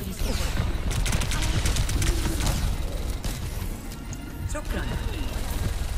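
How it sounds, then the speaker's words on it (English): Shotgun blasts in the Overwatch 2 video game, a rapid run of sharp, loud bursts and crashing impacts layered over game voices and dense battle noise. "Shotgun."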